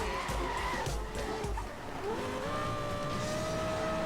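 Racing cars in Need for Speed: Most Wanted let out tire skids and squeals over steady engine roar and shifting revs, loud and continuous throughout.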